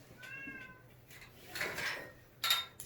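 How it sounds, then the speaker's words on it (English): A cat meows a few times from just beyond a closed door, faint and a little distant, with short tonal cries separated by quiet gaps and a brighter call near the end. "I'm sure you all can hear the cat meowing outside the door,"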